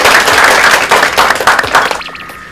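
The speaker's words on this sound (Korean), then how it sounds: "우리 다 같이 박수 한번 치고 시작할까요?" A group of actors clapping together at the start of a first script reading for the Korean drama One More Happy Ending: dense, close hand claps for about two seconds, then thinning out and fading.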